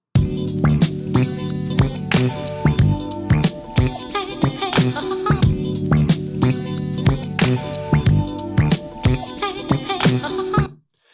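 A punchy hip hop beat loops steadily, the two-bar loop from a song, with kick, snare and sampled melodic chords repeating before cutting off abruptly.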